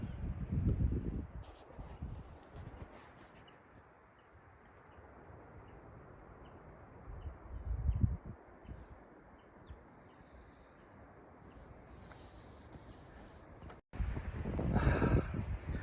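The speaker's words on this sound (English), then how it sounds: "I just had to capture the wind blowing through the trees here" Wind gusts through the trees in Paintbrush Canyon, over 9,000 feet up, as a broad steady rush that swells and fades, with heavy buffeting on the microphone in bursts.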